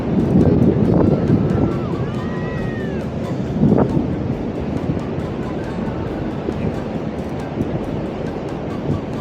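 Sea waves rolling onto a beach in Bali, a steady loud wash of surf mixed with wind buffeting the microphone, with someone talking briefly over it near the start.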